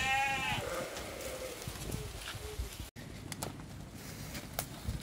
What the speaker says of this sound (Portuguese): São 11 cabras e o bode.